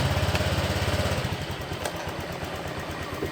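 A Honda Vario 125 scooter engine fires up and settles into a fast, steady idle, with a close mechanical chatter and no talking.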